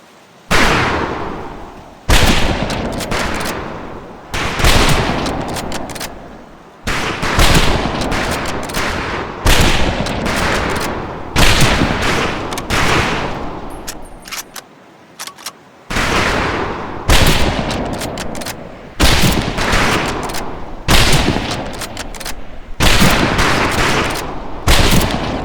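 Volleys of rifle fire ring out on a boot camp firing range in Medal of Honor: Pacific Assault, loud repeated bursts of overlapping shots separated by short pauses, continuing steadily over the whole stretch.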